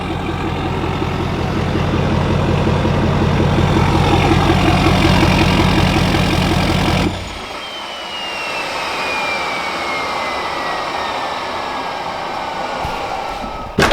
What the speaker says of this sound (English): You can like hear the turbo and idle a little differently